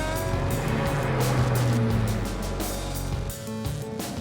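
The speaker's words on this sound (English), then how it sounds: "It's got this mid-mounted V12 naturally aspirated engine" Pagani Zonda Cinque Roadster with a mid-mounted naturally aspirated V12 in a carbon fibre body, a loud, close engine roar rising and falling in pitch through revs, with a brief dip near the end.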